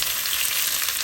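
Onions fry in a pan for chicken dum biryani, a loud, steady, close sizzling hiss that continues evenly throughout with no voices.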